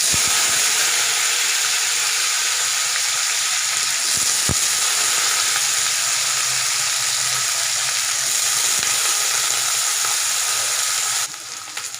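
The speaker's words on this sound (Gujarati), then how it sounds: "હવે ડાયરેક્ટ આપણે રીંગણાનો વઘાર કરી લેશું" Eggplant pieces hit hot oil with asafoetida tempering in a Kathiyawadi-style curry, setting off a loud, continuous close sizzle that holds steady for about eleven seconds before suddenly dropping away.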